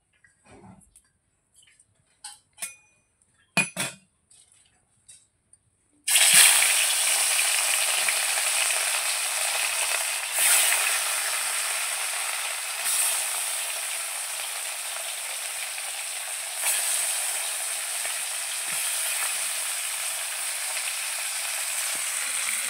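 Salted, turmeric-rubbed fish hits hot oil in a wok, setting off a loud, continuous sizzle and spatter after a few seconds of quiet clinks, then crackling steadily with occasional stronger bursts.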